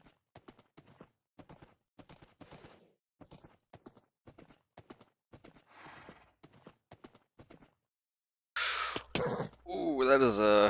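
A horse in Minecraft clip-clops along with steady, faint hoofbeats spread across the clip, then a loud, close whinny bursts out near the end.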